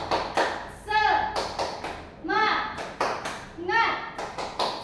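A classroom of pupils performing the tepuk semangat rhythmic clapping chant during an ice-breaking activity, three sharp clap bursts each followed by a shouted group call, voices close and loud.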